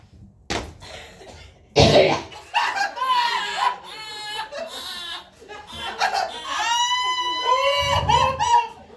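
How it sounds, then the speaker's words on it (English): A person jumps and coughs several times in sharp bursts, mixed with laughter and chuckling from nearby people, loud and close with uneven pauses. "you gotta do the jump and cough, and it goes something like this"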